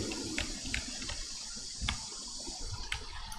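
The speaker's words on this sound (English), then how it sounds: "Oh, that's water. Lapping on the meadow." Gentle video game lake water lapping and sloshing with soft irregular splashes, steady and fairly quiet with no talking.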